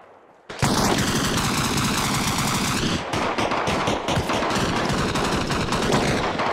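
Loud, sustained machine gun fire from the video game Arma Reforger, a dense continuous rattle of rapid shots that starts abruptly and runs without a break, with no talking.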